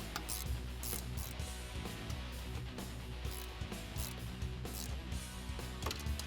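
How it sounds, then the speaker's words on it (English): A ratchet with an 8mm socket tightens the intake tube clamp onto a BBK 85mm throttle body on a 2013-2018 Ram 5.7L Hemi, giving quick, close, steady clicking strokes with no talk. "we can secure our intake tube to our new throttle body and tighten down the clamp, again using an 8mm socket"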